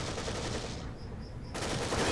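Rapid bursts of enemy gunfire in the survival horror game The Evil Within, dense and continuous apart from a short lull, loud and close throughout.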